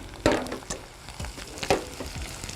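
Dried fruits frying in a pan on a home kitchen stove, giving a soft sizzle with a few sharp crackles and stirring scrapes close by, no voices.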